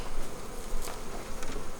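Honeybees buzz steadily around a hive during a queen installation, a dense close swarm drone with no talking.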